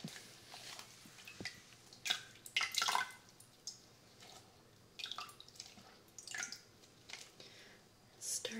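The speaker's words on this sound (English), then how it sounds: "Starting off by rinsing my broccoli in some filtered water." Broccoli is rinsed in filtered water close to the mic, with soft irregular splashes, drips and wet squishes coming in short bursts over a quiet background.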